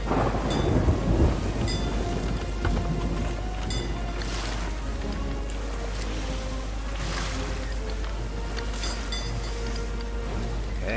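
Thunderstorm with heavy rain at sea in the pirate game Sea of Thieves, a dense hiss of rain under rolling thunder rumbles and washing water, with faint voices at times.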